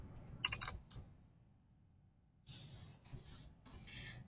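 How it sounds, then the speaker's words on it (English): An ISBN is typed on a computer keyboard in short bursts of soft clicking keystrokes separated by a pause, faint and close in a quiet room. "So I'm typing that one in."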